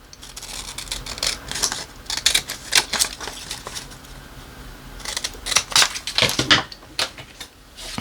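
Scissors snip through paper in clustered bursts of crisp cuts, with a pause mid-way before a denser run of close, fairly loud snips.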